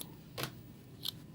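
Scissors snip the corners off a paper planner sticker with two quick, crisp cuts, close but quiet against a still background.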